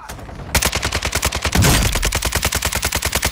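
Automatic weapon fire in Call of Duty: Modern Warfare 2 sounds as a steady, rapid string of loud, close shots. A heavier boom lands partway through the burst, and no one speaks.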